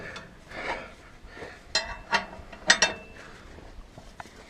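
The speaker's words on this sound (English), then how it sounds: "my 1/8" wrench to loosen, or to take this bolt out" A wrench loosening and removing a bolt on a farm coulter gives a few sharp metallic clicks and clanks, spaced irregularly and close up, with no talk.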